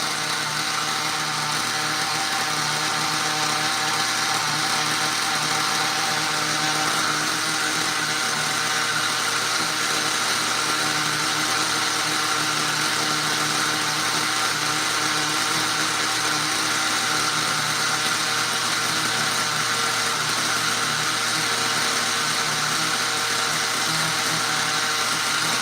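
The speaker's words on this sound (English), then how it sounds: "That's almost out of fuel. That's why it revved up." A nitro-powered RC car engine runs continuously during break-in, nearly out of fuel, with a loud, steady high-pitched whine that holds throughout and no speech.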